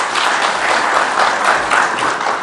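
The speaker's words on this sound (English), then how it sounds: "can we have a huge round of applause for them?" Audience at a business conference session gives a brief burst of steady, dense applause, fairly loud and continuous with no voices over it.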